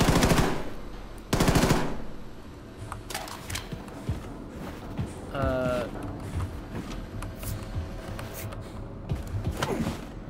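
Gunfire at a shooting range in the video game Wolfenstein II: The New Colossus, with loud rapid automatic bursts at the start, then scattered shots and mechanical creaks, with a voice talking over it.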